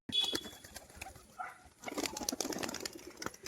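A tumbler pigeon of the hand-flip kind flaps its wings in short flurries near the listener, a brief burst at the start and a longer run of flapping later, with faint background noise.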